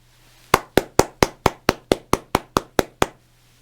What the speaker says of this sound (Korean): 새날을 주신 우리 하나님께 감사와 영광의 박수를 올려드리십시다.